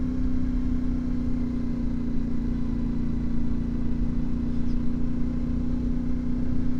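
A CFMoto 450MT motorcycle climbs a steep, slippery hill, its exhaust giving a steady, moderately loud drone that holds an even pitch throughout, heard alone without talk.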